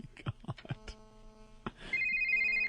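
A telephone rings in a radio studio: a steady, electronic double-toned ring that cuts in clearly near the end, following a few short knocks and bumps in a quiet room.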